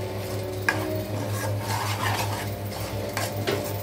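Tomato masala with garam masala and chilli powder is mixed in a pan for chicken gravy, producing gritty rasping scrapes and soft clinks of a utensil against the pan over a faint sizzle.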